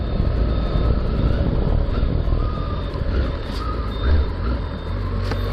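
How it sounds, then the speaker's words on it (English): Roadworks dig up a street to lay gas pipes, with a heavy vehicle rumbling steadily and a reversing alarm beeping repeatedly over the din, heard from a moderate distance. "Still digging up the road for the gas pipes."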